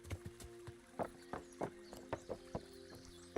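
Horse hooves clip-clop at a steady walking rhythm in a medieval Bohemia video game, close and distinct, with a low steady tone droning beneath the footfalls and no talking.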